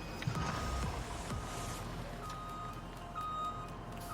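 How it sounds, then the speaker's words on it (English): Combine harvester in Farming Simulator 19 sounding its warning beeps: repeated thin electronic tones over a low, steady engine hum, fairly quiet and without talk. "Oh, our combine's beeping at us."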